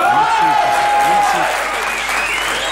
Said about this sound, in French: Ça valait bien ces quelques applaudissements